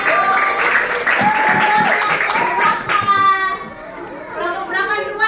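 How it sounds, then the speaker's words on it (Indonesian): Classroom applause from children and adults, a dense burst of clapping mixed with excited kids' voices and chatter, with a teacher speaking over it. "Tepuk tangan buat semua."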